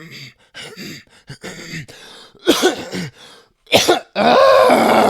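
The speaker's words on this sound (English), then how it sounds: "Clear your throat." A person clears their throat several times with harsh, raspy bursts and coughs, ending in a long, strained guttural rasp close to the microphone.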